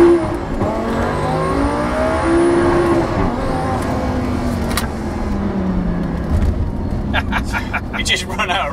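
A turbocharged Audi R8 V10 accelerates hard with wheelspin in second gear, a loud rising engine roar with shifting pitch. Voices talk over the engine from inside the car.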